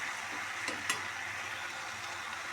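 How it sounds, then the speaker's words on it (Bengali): A spoon scrapes and stirs a mixed vegetable curry of beans, potato, eggplant and green peas in a pan, with a soft sizzle underneath and a couple of sharp clinks against the pot. "তো আমি সব ভালো করে নাড়াচাড়া দিয়ে নেব।"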